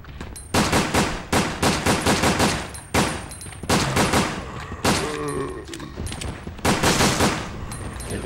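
Pistol gunshots in the PS2 game Resident Evil Dead Aim: loud, sharp reports ring out in several spaced bursts, each followed by a ringing tail, with brief quieter gaps between volleys.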